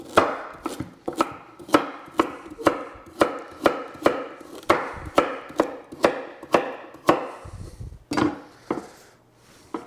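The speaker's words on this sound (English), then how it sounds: "Just rough chop them." Knife rough chopping vegetables on a cutting board for a roast chicken, a steady series of about twenty sharp, close thuds in an even rhythm, no talking.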